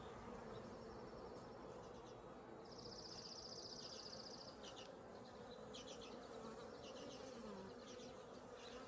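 Honeybees on a deck buzz softly and continuously nearby, the hum rising and falling over a quiet outdoor background.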